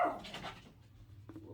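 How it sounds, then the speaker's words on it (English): A pet dog barks on a windy day, a single muffled bark at the start fading into quiet, then a faint softer yip near the end, heard at some distance indoors. "That's my baby's barking."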